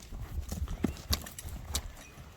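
Strong young horse walking on a hard surface at a sale: a handful of irregular, fairly faint hoof clops close by, with a little background noise and no talk.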